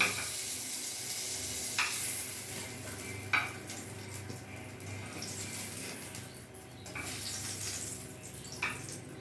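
Fried pointed gourd pieces are lifted one by one out of a pan. Sharp scraping clicks of the utensil sound at intervals over a faint, steady sizzle of oil.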